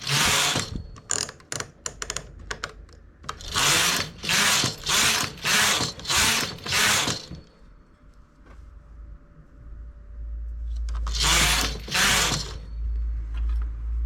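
A knitting machine carriage is run across eight rows of a cardigan, producing a run of regular ratcheting mechanical sweeps, close and loud, then a quieter pause with low hum before two more passes.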